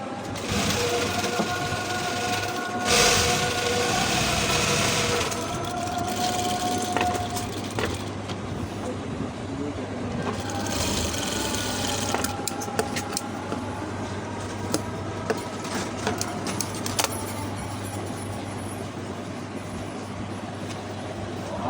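A sewing machine runs nearby while stitching the neck of an apron with fine stitches, whirring in repeated bursts separated by short pauses and light clicks.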